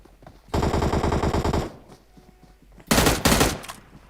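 M16 burst fire in a video game: a long rapid burst of loud gunshots, a short pause, then two shorter sharp bursts close together.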